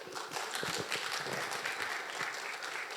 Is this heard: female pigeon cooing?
no